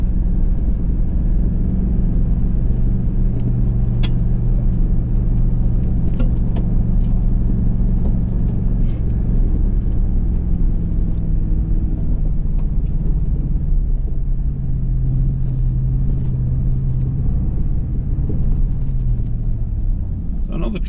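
A Ford Super Duty non-diesel pickup towing an excavator, its engine a loud, steady low rumble that slowly shifts pitch as it gains speed, with road and cabin noise throughout and no speech.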